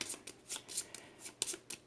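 Playing cards for the Final Girl board game being shuffled, a quick series of crisp riffling bursts spread across two seconds, close and fairly soft with no talk.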